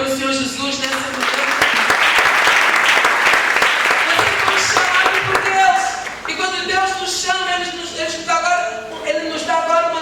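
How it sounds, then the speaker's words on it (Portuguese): A church congregation applauds loudly for several seconds, the dense clapping blending with voices and sung tones before easing into lighter, scattered claps. "Você pode aplaudir o Senhor Jesus nessa manhã."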